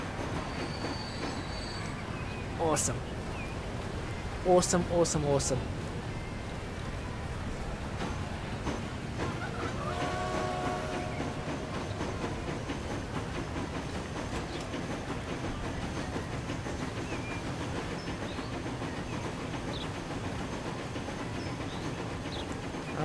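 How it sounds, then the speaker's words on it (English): Can-Am Express train running in the Transport Fever video game, a continuous rumble of rolling wheels with brief squealing and metallic clicks early on, while a voice briefly exclaims over it. "there's a Can-Am Express train leaving right now"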